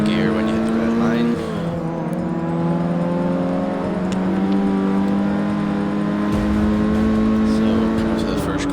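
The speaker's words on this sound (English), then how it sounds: "keeping those revs pinned all the way until the wheel spin goes away, and then changing gear when you hit the red line." Ford Focus ST engine in the racing game Forza 6, revs held high and climbing through the gears with a sharp shift partway, a loud steady buzzy drone with someone talking over it.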